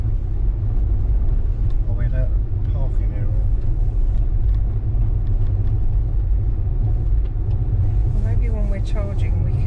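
A car rolls into a campsite, its engine and road rumble steady and loud throughout, with a voice talking over it.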